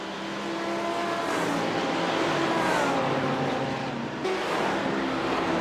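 Race cars in the iRacing sim at Bathurst, IMSA sportscars climbing the mountain section mid-race, hold a steady, loud engine drone with shifting pitch and overlapping motors, one brief dip near the end before the roar resumes.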